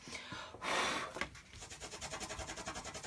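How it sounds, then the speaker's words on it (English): Excess embossing powder is rubbed off a watercolour card, first a brief broad scrubbing burst, then a fast even series of light rasping strokes close up. "I'm just going to just go over these little bits, get rid of the extra embossing powder."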